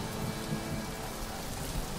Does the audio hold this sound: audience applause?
no